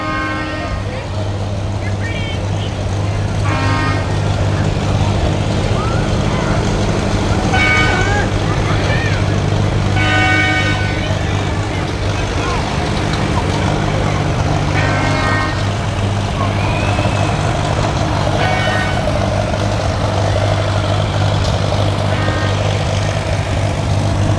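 Old tractors rolling along in a small-town Minnesota summer parade, a steady low engine drone throughout with crowd chatter and scattered high beeps and squeals in the background.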